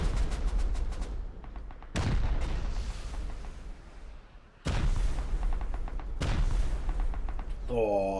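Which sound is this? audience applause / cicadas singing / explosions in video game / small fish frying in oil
explosions in video game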